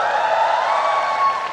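Audience applause fills a live music event celebrating a singer's 19th album release, a steady, dense wash of clapping held at even loudness throughout with no voices over it.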